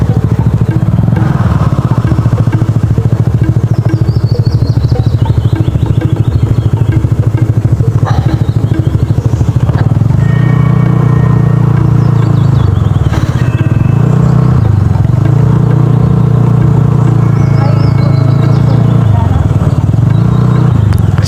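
Several motorcycles roll across a hanging bridge at a nature camp in Tanay, Rizal, their engines droning steadily throughout alongside clattering and knocking from the deck, with people talking over the noise.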